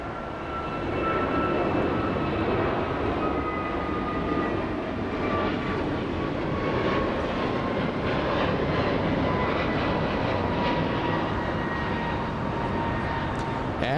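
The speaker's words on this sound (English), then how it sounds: "We have Delta's 1156 flying in from Dallas, Texas" Delta flight 1156 from Dallas arriving at Los Angeles International Airport, a steady loud roar of jet engines with a faint descending whine, continuous and close for the whole stretch with no talk.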